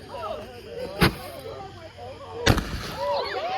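Fourth of July fireworks shoot up into the air, two sharp separate bursts with whistling, crackling trails between them, fairly distant and faint under background chatter.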